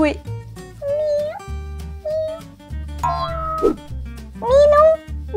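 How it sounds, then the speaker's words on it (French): A small cat mews several times in short, rising calls over steady background music, with a louder, drawn-out meow near the end. "j'ai trouvé un chat dans l'arbre"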